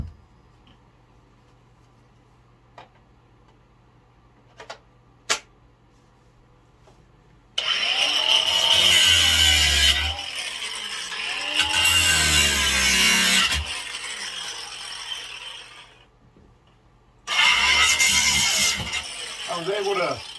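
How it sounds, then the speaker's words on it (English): An angle grinder cutting through screws during a door installation where old construction meets new, giving loud, harsh, high-pitched whining bursts. Two long cuts follow a quiet stretch with a few small taps, and then a shorter third burst comes. "I'm going to have to use my angle grinder, which is loud, so please bear with me."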